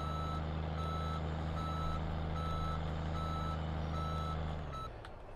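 A truck's reversing alarm in Farming Simulator 15 repeats steady, evenly spaced beeps over a loud, constant engine drone that winds down near the end.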